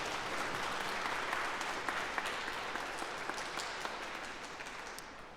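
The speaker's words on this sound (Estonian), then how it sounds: "Nii et jaa, see on aplausi väärt." An audience at a school's 25th anniversary concert applauds steadily, a sustained wash of many hands clapping in a hall, gradually fading a little toward the end.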